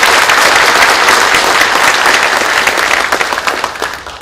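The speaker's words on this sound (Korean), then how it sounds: "우리 이분들께도 뜨거운 박수 한번 부탁드립니다" A warm, loud round of applause fills a hall at a legislative rally and documentary screening, dense crowd clapping holding steady before thinning into scattered claps at the end.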